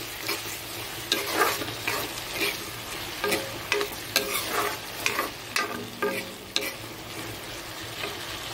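Oil sizzles steadily in a pan of frying vegetables while a utensil scrapes and stirs in short, irregular strokes, close by.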